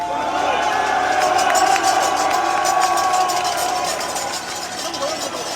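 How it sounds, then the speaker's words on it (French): A large crowd at a political victory speech cheers and applauds continuously, a dense wash of clapping and shouts that eases slightly toward the end. "Je veux que vous les applaudissiez."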